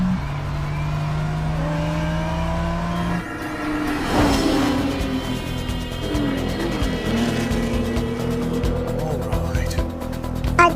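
Car engine revving hard as it accelerates in a street race, a loud sustained whine climbing and shifting pitch, with a second engine tone dropping away midway, no voices.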